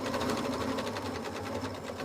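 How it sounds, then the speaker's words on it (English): A sewing machine runs a straight stitch at presser-foot width while a soup bowl cozy is made, giving a steady close mechanical whir with a fast, even needle rhythm throughout. "I'm just sewing like width of presser foot"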